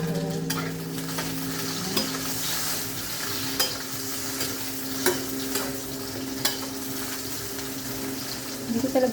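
Food fries in plentiful hot cooking oil with a close, continuous sizzle and a low hum. Periodic sharp spattering pops break through, with no talking.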